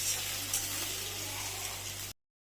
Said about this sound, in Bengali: এখন ভেজে নেব শিমলা মরিচ